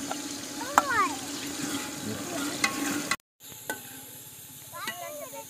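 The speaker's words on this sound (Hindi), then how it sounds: "अभी ना अदरक और लहसुन का पेस्ट ऐड कर रहे हैं" Ginger garlic paste fries and sizzles in a pot of chicken pulao cooked in a village, a steady hiss with stirring scrapes. It breaks off briefly and then comes back, with a voice talking over it.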